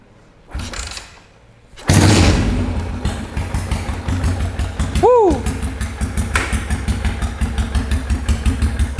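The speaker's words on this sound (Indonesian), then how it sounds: "seperti apa sih suaranya SR400 1 silinder 400 cc, pastinya sedap banget" A modified single-cylinder 400cc Yamaha SR400 chopper is kicked over and settles into a low, heavy idle with a slow, even thumping beat, close by, a brief squeal partway through.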